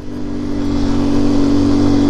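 A Hero motorcycle engine revs steadily and loudly up close on a snowy high-altitude mountain road, its strong low hum holding constant and building slightly over two seconds with no voices.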